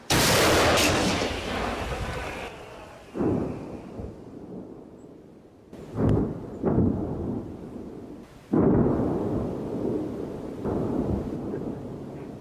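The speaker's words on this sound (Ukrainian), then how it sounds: "Постріл!" Several sharp, loud blasts ring out, each with a rumbling echoing tail, spaced a few seconds apart against a low background rumble.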